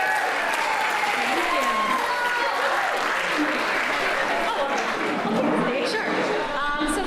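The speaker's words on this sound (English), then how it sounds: "Let's have a round of applause for the maid of honor one more time." Wedding guests at the toasts applauding the maid of honor, loud, continuous clapping from a room full of people, with cheering and chatter mixed through it.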